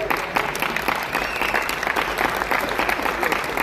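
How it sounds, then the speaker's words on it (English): A keynote audience claps in a dense, lively burst that holds steady for a few seconds. "I'm glad you're clapping, you could be hating."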